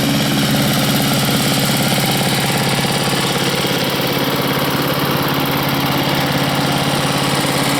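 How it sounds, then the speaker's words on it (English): A $10 garage-sale gas-powered leaf blower runs at a steady throttle, its loud buzzing two-stroke drone continuing unbroken and close by with no voices. "But really, I don't need a blower out here, but it sure does work well."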